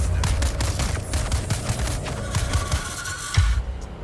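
Sustained gunfire fight in the video game Dune: Awakening, with dense overlapping shots and bursts for about four seconds and one heavier impact near the end, loud and close with no talking over it.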